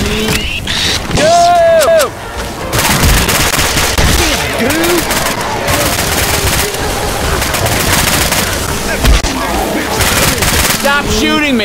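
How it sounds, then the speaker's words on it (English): Rapid automatic gunfire from the co-op video game Left 4 Dead 2 rattles almost nonstop, with dense overlapping bursts and loud impacts, while players shout over the shooting. "Stop shooting me!"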